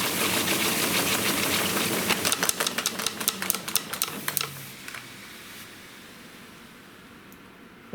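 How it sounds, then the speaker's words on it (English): A 110-year-old mechanical piano player fast-reverses, spooling its paper music roll back with a whirring mechanical rush and a run of rapid clicking that winds down and fades to near quiet. "That moves that gear here into the reverse position, and then you can spool your roll back."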